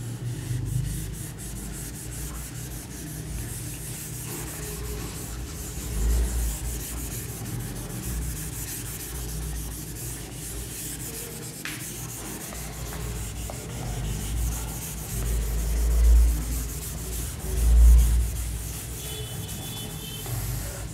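Chalk being rubbed off a board during a classroom lecture, a soft steady scrubbing with a few slightly louder swipes near the end, fairly quiet and heard on its own.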